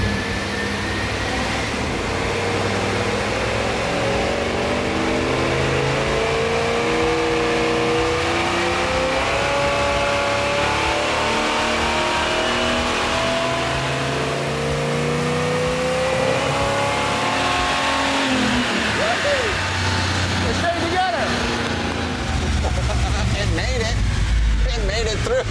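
A Chevy C1500 race truck drives off and accelerates, its engine droning loudly throughout with rising and falling revs as gears change, while people talk over the noise inside the cab.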